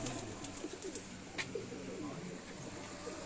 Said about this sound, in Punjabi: ਉਹਨਾਂ ਦੇ ਘਰ ਦੇ ਲਾਖੇ ਕਬੂਤਰਾਂ ਦਾ ਤੁਹਾਨੂੰ ਸ਼ੌਕ ਕਰਾ ਰਹੇ ਹਾਂ ਜੀ